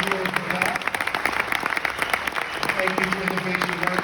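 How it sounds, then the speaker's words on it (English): Audience applause at an evening awards event, a sustained crowd clapping in a dense patter with a voice briefly audible over it. "Give them a round of applause."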